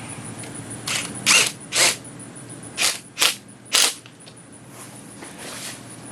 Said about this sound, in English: Tighten up the clamp.